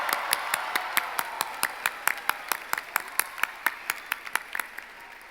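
Audience applause at a high school commencement ceremony, a thin, steady patter of individual claps with evenly spaced sharp hand strikes over a soft crowd wash, tapering slightly toward the end.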